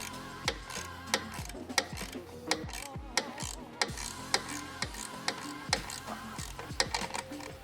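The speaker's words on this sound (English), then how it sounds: "And then grab a ratchet and a 12mm open-ended." A ratchet clicks in quick, rhythmic bursts while tightening exhaust bolts on a Nissan 350Z (Z33) fitted with a TOMEI Expreme Ti Type-D dual titanium exhaust, with sharp, close metallic ticks repeating steadily and no voices.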